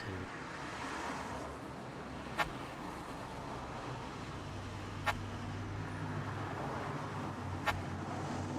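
Ever-present city traffic in the game An Outcry hums as a low, steady roadway rumble of passing vehicles, with three sharp faint clicks spaced evenly across it and no speech.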